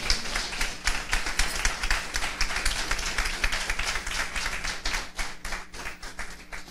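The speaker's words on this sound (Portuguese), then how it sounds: "Você pode aplaudir a Deus por isso?" A church congregation claps together during a Portuguese-language worship service, brisk rhythmic hand claps that carry on steadily and fairly close for nearly seven seconds with little talk.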